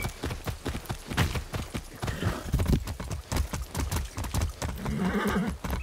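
A horse gallops in the video game Far Cry 6, its hooves pounding in a fast, steady clip-clop rhythm. A whinny rises near the end.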